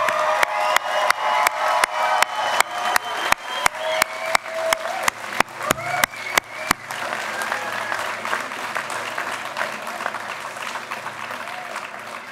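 A crowd applauds the faculty and staff at a North Idaho College commencement: steady clapping and scattered cheers, with regular rhythmic claps in unison early on that dissolve into a looser, sustained ovation.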